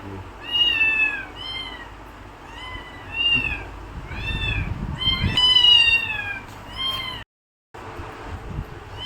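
A cat meows repeatedly in a steady series of drawn-out, rising-and-falling cries, close by, with a brief silent gap near the end.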